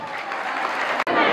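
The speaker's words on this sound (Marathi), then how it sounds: "एकदा जोरदार टाळ्या होत्या." Loud, sustained clapping from an audience at a book launch ceremony, a dense, continuous wash of hands with a momentary dropout near the end, a voice faintly audible beneath.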